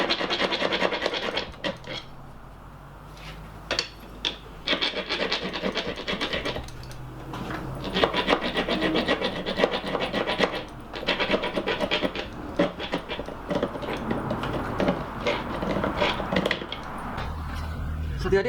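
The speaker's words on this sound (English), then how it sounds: "I'm going to use one of my older files. This old round bastard can do this." Old round bastard file rasping at a wooden hammer handle, in steady scraping strokes that run almost without a break and are fairly close, with a voice talking now and then over the filing.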